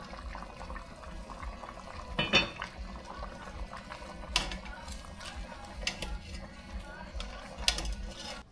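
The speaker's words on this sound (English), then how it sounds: "Then put our cover on and let this simmer for a good maybe 30-35 minutes." Covered pot of Filipino pork asado simmering, a quiet steady bubbling bed with soft lid rattles and a few clinking knocks, low and close, no voices.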